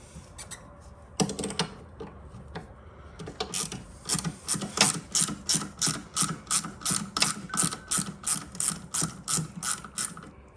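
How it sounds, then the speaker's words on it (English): A ratchet wrench clicks in quick, rhythmic bursts while loosening bolts on a Toro single-stage snow thrower. A few scattered clicks come first, then a long run of steady ratcheting strokes, close up with no talk. "And now we need that wrench again."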